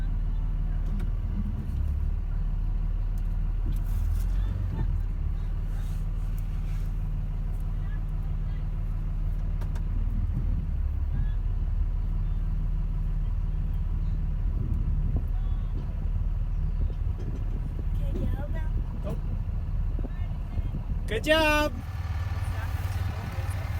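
Truck engine rumbling low and steady while driving across a field on baling day, a continuous close drone with a brief squeal near the end, as people talk briefly over it.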